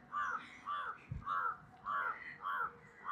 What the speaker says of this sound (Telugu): కాకిగోల్ అంటే ఇదే అనుకుంటా.